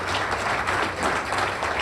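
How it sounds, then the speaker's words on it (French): An audience at a national pioneers' congress in Benin applauds, a uniform wash of many hands clapping steadily at moderate distance, with no voices standing out. "Applaudissez pour eux, pour leurs œuvres."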